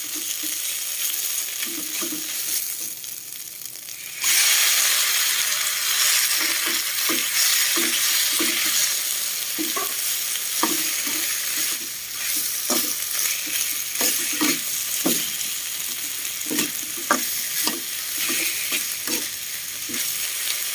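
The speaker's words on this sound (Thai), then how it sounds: "เครื่องหอมแล้วเอาปลาลงผัดเลยครับ" Fish is stir-fried with fragrant curry paste in a pan for a northern-style Thai curry. A close, continuous sizzle grows louder after a few seconds, with repeated scraping stirs throughout and no voices.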